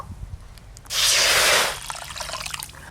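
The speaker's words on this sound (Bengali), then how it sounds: "এবার আমি কড়াতে জল দেব।" Water pours into a kadai cooking pan in one bright, rushing splash lasting under a second, preceded and followed by faint kitchen clatter and drips.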